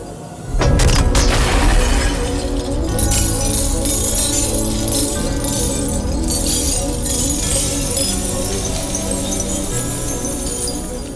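Glass shatters with a loud crash, then a long spray of tinkling shards and scattered clinks keeps falling and settling for several seconds, close and unbroken by voices.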